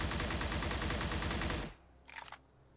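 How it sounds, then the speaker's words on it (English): Rapid automatic fire from an AK-74 assault rifle in a video game, a loud continuous burst for about 1.7 seconds that cuts off abruptly, followed by a short faint mechanical rattle. "And it is going to be the AK-74."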